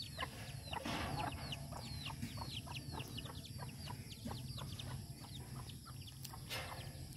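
Hens cluck in a farmyard, a quick series of short, sharp clucks in a steady rhythm, fairly faint and heard over outdoor wind and background noise, with no talking.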